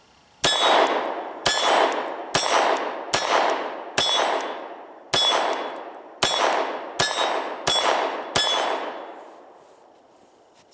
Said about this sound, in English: getting good hits on our steel plate.